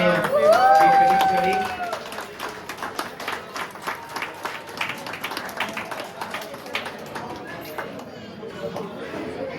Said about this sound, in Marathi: सर टाळ्या वाजवा या ठिकाणी